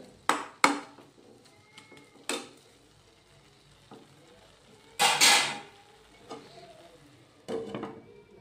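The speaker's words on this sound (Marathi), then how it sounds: "एकदा आपण याला हलवून घेऊया आणि परत जे आहे आपण यावरती झाकण ठेवून घेऊया" Carrot halwa (gajar halwa) stirred in a cooking pot, with scattered scraping, clattering bursts from the spoon and a louder metallic clank as the lid is set on, all fairly close in a quiet kitchen.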